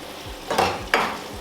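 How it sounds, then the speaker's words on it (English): Stock from boiling gizzard is poured into a hot pot of chopped vegetables, two quick sizzling bursts and stirring scrapes in close succession, sharp and near, with no voices. "I have some stock over here from boiling the gizzard. I'm going to add that."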